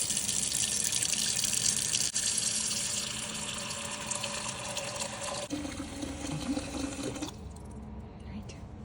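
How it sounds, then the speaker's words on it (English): Steady rush of tap water pouring into a pot, a broad continuous hiss that shifts in tone partway through as the vessel fills, then cuts off near the end. "We're going to begin with filling up a cooking pot"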